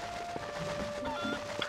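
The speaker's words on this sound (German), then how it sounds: "mit Hühnern kann man wieder fliegen." A chicken clucks in Zelda: Twilight Princess HD, giving a few short, quiet clucks over a soft game background hum.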